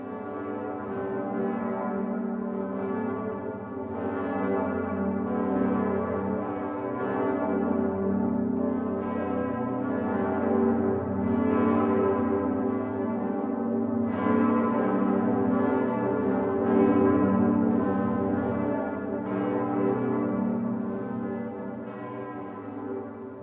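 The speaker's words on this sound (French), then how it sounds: "c'est la cathédrale de Cologne en Allemagne, dont on passera peut-être des extraits tout à l'heure, où se trouve la plus grosse cloche d'église capable de balancer dans le monde" The largest swinging church bell in Cologne Cathedral, Germany, tolls in a deep, sustained, resonant peal with rich overtones, swelling in slow repeated strikes that blend into one continuous hum, heard alone.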